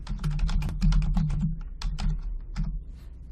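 Quick, steady typing on a computer keyboard, close and clear, with keys tapping in a fast continuous run that breaks off briefly twice.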